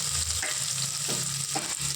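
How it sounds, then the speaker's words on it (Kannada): Onion frying in hot oil in a pressure cooker for avarekalu sambar, a loud, steady sizzle with a few scraping stirs mixed in and no voices. "ಈರುಳ್ಳಿ ಇಷ್ಟು ಫ್ರೈ ಆದರೆ ಸಾಕು"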